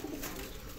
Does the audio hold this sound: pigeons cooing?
yes